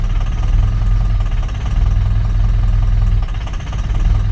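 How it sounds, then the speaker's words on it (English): A cold diesel Ford Super Duty pickup engine idles roughly, a steady loud low rumble with uneven knocking pulses and slight surges, heard alone with no talk. "She is not running very good. Oh, you gonna idle?"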